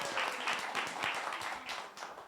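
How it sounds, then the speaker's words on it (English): An audience at a civic action event breaks into dense, continuous clapping that stays loud and fills the whole short stretch. "Big round of applause for that."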